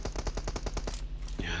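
Rapid automatic gunfire in a PUBG team deathmatch battle: a fast, steady string of about a dozen sharp shots over roughly a second, then a brief pause and one more loud report, close and punchy.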